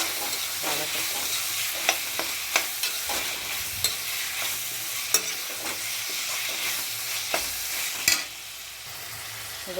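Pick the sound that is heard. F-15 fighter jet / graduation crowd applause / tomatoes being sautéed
tomatoes being sautéed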